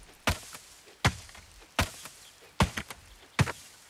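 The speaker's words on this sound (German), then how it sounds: "da es jetzt regnet, können wir mal ein paar Bäume abbauen." An axe chops down trees in the video game Coral Island: five heavy, close wooden thunks spaced evenly under a second apart, each with a short rattling tail, and no voice.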